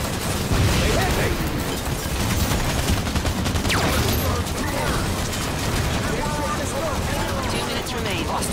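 A video game firefight fills the space with dense, continuous volleys of gunfire and bursts, heavy and close, under shouted combat callouts.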